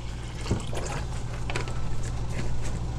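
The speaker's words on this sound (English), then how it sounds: "you pour the rest of your distilled water in the soap" Distilled water poured into a bucket of soap solution, a close, continuous splashing and gurgling of liquid filling the container, with a low steady hum beneath.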